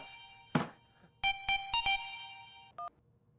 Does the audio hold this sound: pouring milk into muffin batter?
no